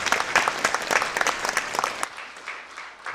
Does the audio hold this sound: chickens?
no